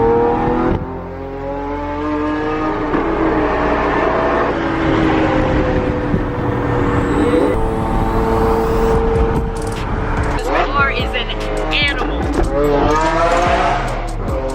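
A Lamborghini Aventador supercar drives along with a loud, close engine drone that rises and shifts as it accelerates and changes gear, heard alone without talk.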